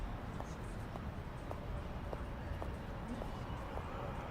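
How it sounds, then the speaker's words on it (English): Evenly spaced footsteps approach in the Chinatown Detective Agency game, soft regular knocks about twice a second under a steady background hum. "I hear footsteps."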